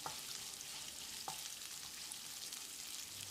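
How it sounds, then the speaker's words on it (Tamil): Small onions sautéing in a pan for a breakfast dish, a faint, even sizzle with a couple of soft stirring knocks, quiet and alone. "வெங்காயத்தை கண்ணாடி பதத்துக்கு வதக்கிடலாம்."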